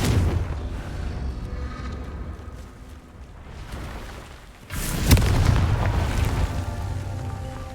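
A Confringo blasting spell explodes in the Hogwarts Legacy video game with a heavy, booming burst about two-thirds through, following a sustained low rumble of game sound; no voices.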